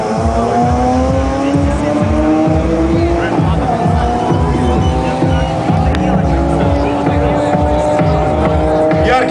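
A BMW M5 (E38 body) and a BMW M3 (E36 body) run side by side at a drag race, with loud, continuous engine roar and rising revs through the gears, heard up close and steady.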